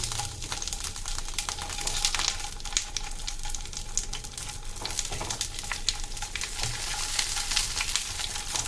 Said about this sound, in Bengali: তেলটা গরম হয়ে গেলে এর মধ্যে আমি এই পাতুরিগুলো এইভাবে দিয়ে দেব।